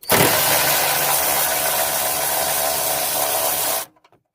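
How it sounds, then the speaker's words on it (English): An air tool or power wrench whirs loudly and steadily for several seconds while removing a bolt on a Pontiac G6 that will not start, then cuts off abruptly, leaving a few faint clicks. "I gotta take that bolt off"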